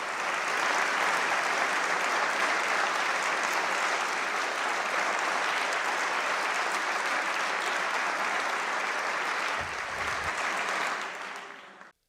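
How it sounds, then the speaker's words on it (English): Large audience at a political speech by a Democratic governor breaking into long, loud, steady applause that holds for about ten seconds before cutting off abruptly. "I'm allowing this applause to play"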